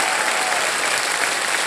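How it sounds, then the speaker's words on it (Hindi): A studio audience on a televised quiz game show applauds loudly and steadily, a dense wash of clapping filling the room for a couple of seconds. "हमारी जनता ने यहाँ जोर से ताली बजाई है"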